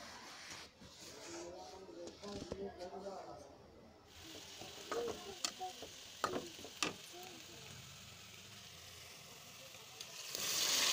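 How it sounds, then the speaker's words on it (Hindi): Onions browning in hot oil with garam masala, a steady crackling sizzle with scattered sharp pops and stirring clicks, fairly quiet throughout, rising slightly near the end. "प्याज को तल लेंगे ब्राउन होने तक।"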